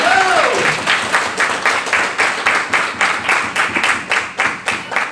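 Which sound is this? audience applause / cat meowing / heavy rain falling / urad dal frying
audience applause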